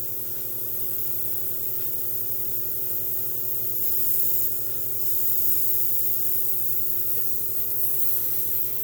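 An airbrush sprays Imperial Fist primer paint while its compressor runs, giving a continuous close hiss over a steady mechanical drone with no break.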